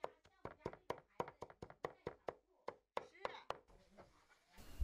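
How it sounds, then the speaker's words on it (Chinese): Cucumber being chopped on a cutting board, a rapid series of sharp knife knocks in steady rhythm, pausing briefly before a few more chops and some rustling handling toward the end. "放到菜板上剁碎一些"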